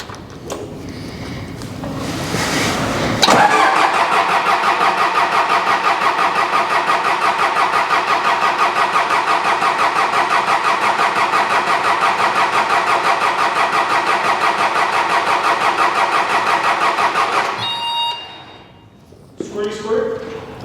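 A diesel engine cranks with a rapid, rhythmic starter chug for about fourteen seconds without catching, then stops; a voice talks briefly before and after.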